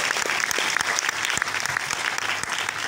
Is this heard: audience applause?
yes